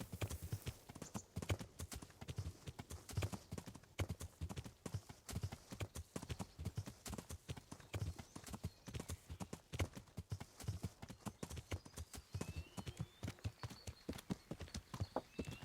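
A horse's hooves clip-clop at a steady trot in the medieval video game Kingdom Come: Deliverance, with a continuous quick rhythm of close, distinct footfalls and no talk.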